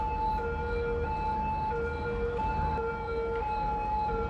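Ambulance siren in the city-building game Cities Skylines, a continuous wailing electronic tone that alternates pitch steadily and loudly with no pauses, alone.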